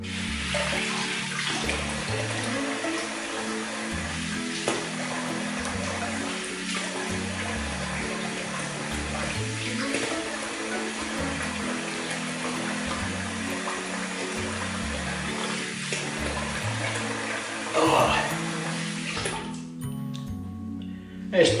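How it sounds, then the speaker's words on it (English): Tap water runs steadily for a long stretch while soap lather is rinsed off after a shave, a continuous close splashing rush with small shifts as hands move through the stream, stopping abruptly near the end. "Right, we'll rinse off."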